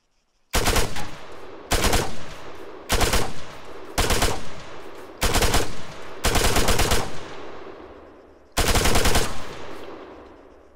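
Bursts of automatic gunfire in ArmA 3 as rounds are fired at a distant target during a small-arms penetration test: seven loud, rapid strings of shots, each about half a second to a second long, separated by short pauses, with no talk.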